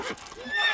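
A horse whinnies in The Witcher 3 video game, a short high neigh close by, with faint hoof clops and game ambience around it.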